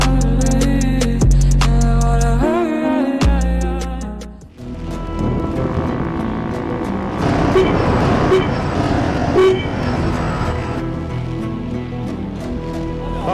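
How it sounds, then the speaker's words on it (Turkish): A car horn sounds in several loud toots, one held longer, amid busy traffic noise and engine rumble. "O kornaya bir daha basarsan seni direksiyonla beraber dışarı alırım"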